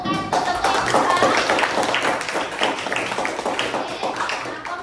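A classroom of students claps for finished group presentations, an uneven patter of hands close by with some voices mixed in, gradually thinning toward the end.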